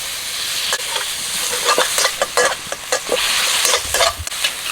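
Minced pork stir-frying in hot oil with light soy sauce, a steady close sizzle broken by sharp scraping strokes of a spatula against the pan, with no talking over it.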